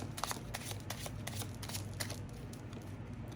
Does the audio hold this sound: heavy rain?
no